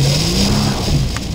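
A 2013 Jaguar XF AWD engine revs and pulls hard, a steady loud mid-range drone with a rising pitch, close by and continuous.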